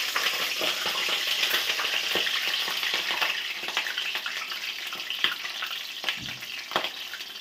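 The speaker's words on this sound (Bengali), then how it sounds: "তো আমি প্রথমে কড়াইতে তেল আমি বসিয়ে দিয়েছি, গরম হয়ে গেছে। প্রথমে আমি এই কপিগুলো ফুলকপি দিয়ে দিচ্ছি।" Cauliflower pieces sizzle and spit loudly in hot oil in a wok, a dense crackling hiss punctuated by sharp pops and stirring knocks.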